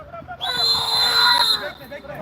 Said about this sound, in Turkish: Hakem düdüğünü çaldı.